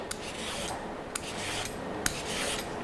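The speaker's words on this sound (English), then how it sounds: "then you've got your ribbon with the peeler" Vegetable peeler scraping long ribbons off a raw carrot laid on a clean dish towel in a home kitchen, a steady close rasping with a few sharp clicks as each stroke ends.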